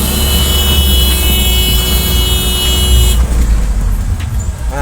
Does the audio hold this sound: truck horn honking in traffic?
yes